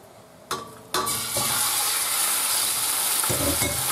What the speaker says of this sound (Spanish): Ahora echamos el lomo.